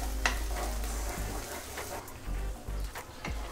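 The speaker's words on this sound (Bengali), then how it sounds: "এখন আমি এটা নাড়তে থাকবো, অনবরত নাড়তে থাকবো যাতে তলাতে লেগে না যায়।" Ridge gourd mash frying in mustard oil in a pan while being stirred continuously, giving a steady sizzle broken by scraping strokes, close and alone.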